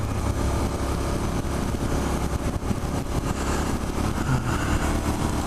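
A Suzuki SV650 motorcycle engine drones steadily while riding in third gear at about 5,000 RPM and 45 mph, a loud, continuous engine note mixed with wind rush and no talking.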